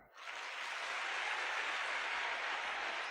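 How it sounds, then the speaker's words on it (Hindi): Students at an inspirational talk break into applause for themselves, a soft, even wash of many hands clapping that swells in quickly and holds steady, heard from a distance. "अपने लिए एक बार ताली बजाइए"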